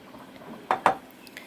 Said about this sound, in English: Now we're going to go ahead and mix our honey in there nice and good.